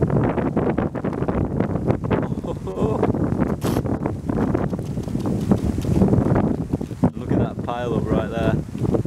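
Strong wind with rain roars steadily past the microphone during outdoor foraging, a loud continuous buffeting rush with gusts throughout, while a person talks under it.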